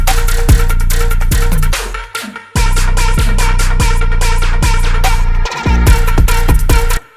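An electronic drum beat with punchy kicks and sharp snares under a pitched tonal layer, loud and driving, with a brief dropout near the two-second mark before the pattern resumes and pushes to a stop.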